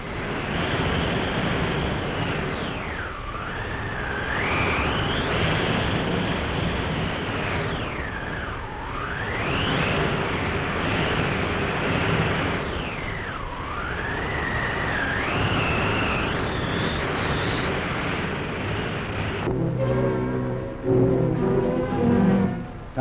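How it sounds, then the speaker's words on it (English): Hurricane winds at full force roar steadily, with a high, siren-like howl that rises and falls in long wailing sweeps. The storm gives way to a different, choppier noise near the end. "a hurricane at its height."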